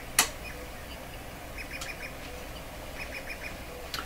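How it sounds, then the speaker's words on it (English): Recorded birdsong with quacking, squawking calls played through a Hallicrafters TW2000 World Wide tube radio, faint and repetitive with brief chirps over a low hiss, and a sharp click near the start. "I guess it's a little repetitive here on the bird singing"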